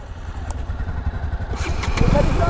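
A motorcycle engine runs close by with a steady low rumble that grows slightly louder toward the end, while people talk over it.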